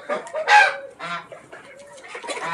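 Clucking and throaty calls from a rooster, several short bursts close by, with faint background voices in between.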